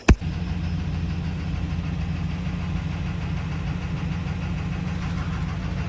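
A truck engine idles steadily with a low, even throb, close and constant after a sharp knock at the start.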